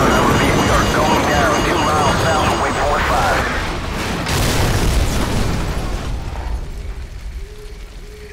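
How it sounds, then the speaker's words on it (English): A missile explosion in Call of Duty Modern Warfare, a loud sustained roaring blast with rumble and debris that gradually fades, with shouted voices over it. "Incoming missile!"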